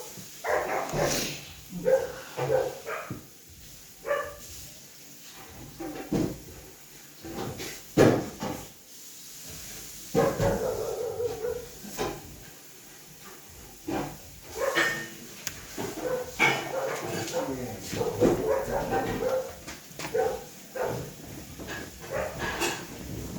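Dogs bark in scattered, irregular bursts amid household clatter and bumps, some calls near and sharp, others fainter, with whimpers between.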